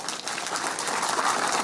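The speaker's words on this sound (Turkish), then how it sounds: "vatandaşlar alkış ve tezahüratlarla karşılık verdi" Citizens at an MHP election office opening rally in Turkey applauding and cheering, a dense, steady wash of clapping and crowd noise filling the brief moment.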